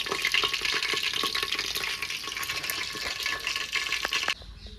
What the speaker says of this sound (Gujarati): તેલ પણ આવી ગયું છે. જીરું નાખી દઈએ.